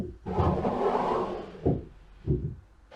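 Wooden drawers slide into workbench cabinets: a long, rumbling wooden glide, then two short knocks as they seat in place, close and fairly loud with no talk.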